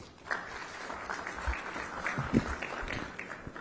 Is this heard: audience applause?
yes